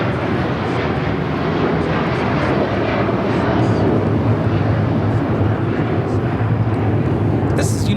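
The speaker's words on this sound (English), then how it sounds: "1431 taking off to Honolulu on the 757-300" A United Airlines Boeing 757-300 takes off from Los Angeles airport, a broad, steady engine roar that holds loud and constant the whole time, with a voice talking over it.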